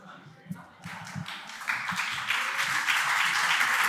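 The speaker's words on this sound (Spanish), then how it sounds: "no os canséis de aplaudir" Audience applause at a workshop session starts with a few scattered claps, then swells into dense, sustained clapping that grows louder toward the end, with some talk near the start.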